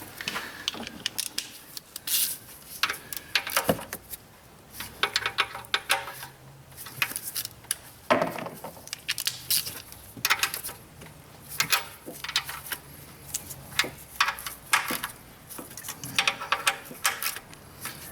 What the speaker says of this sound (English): Alright, now we've got it all torqued to factory specs.